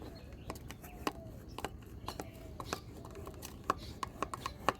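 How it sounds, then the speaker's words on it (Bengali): A knife runs around the edges of a baked fruit cake in its tin, producing quiet, irregular scraping ticks and small taps, growing slightly sharper toward the end. "দেখুন চারিপাশটা আমি একটু ছাড়িয়ে দিচ্ছি চাকু দিয়ে"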